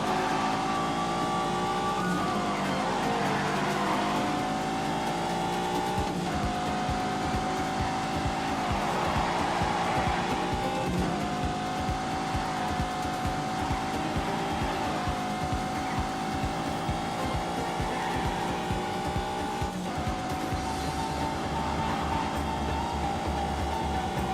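A big, powerful car accelerates hard in The Grand Tour Game, its engine note climbing steadily and loudly through repeated upshifts for an extended stretch, with no talk over it.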